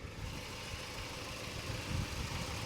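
A cheap Hyundai or Kia car idles after repair work, a steady low engine hum and faint mechanical whir heard from close by, even and unbroken with no voices.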